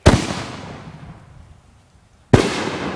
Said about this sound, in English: Chris, see if you can get this one coming up out of the tube. And finish this off with a bang